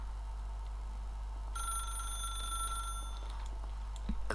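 Telephone ringing in the video game The Stanley Parable: a bright electronic ring starts partway through and trills steadily for about a second and a half, then fades, with a faint game ambience hum underneath.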